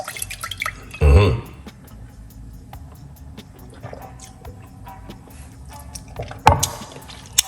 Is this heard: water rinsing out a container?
yes